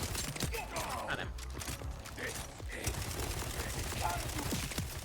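Rapid bursts of video game gunfire crackle steadily throughout, close and fairly loud, with faint mechanical clatter between shots and a voice partly audible underneath.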